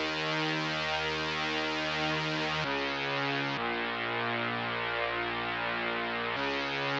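A sustained, stretched-out bass synth from an electronic music track drones alone, holding dense, buzzy chords that shift pitch three times in long blocks.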